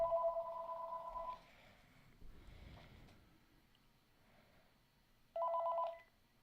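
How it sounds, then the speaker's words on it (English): A telephone rings in two separate bursts of trilling tones several seconds apart, with quiet background noise between them. "It's ringing."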